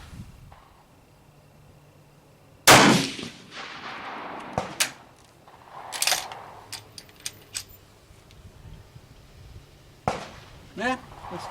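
Sharp gunshots from reloaded ammunition in old IAC commercial brass fired at a target on an outdoor range, one loud crack followed by several scattered shots and clicks, with people talking between them.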